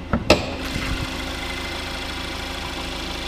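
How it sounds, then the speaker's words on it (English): A Cadillac CTS with a 2-liter turbo engine idles under the hood, a steady low hum after a couple of sharp knocks at the start, close and even, with no talking. "And there's that 2-liter turbo."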